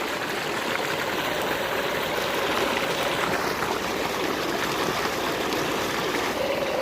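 Water from a well motor rushes through pipes into a maize field, a steady, loud, close flowing hiss that continues unbroken with no talk.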